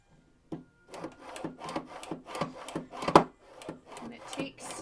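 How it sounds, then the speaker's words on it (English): Gouging machine blade scraping along a piece of oboe cane, a series of short rhythmic rasping strokes, close and distinct, in bursts roughly twice per second after a brief quiet start. "There's a blade here, and it is slowly shaving the cane off."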